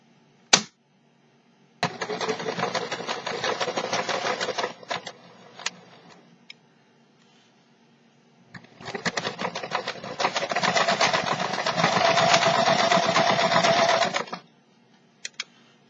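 Sewing machine stitching through a knitted sweater to secure a steek: two long, rapid runs of dense mechanical stitching, about five seconds and six seconds, separated by quiet, with a few clicks, close and loud, no voices.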